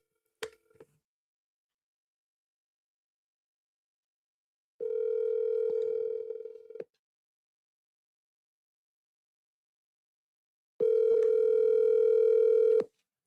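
An outgoing telephone call gives a brief click, then two long steady dial-type tones separated by silence, loud and alone.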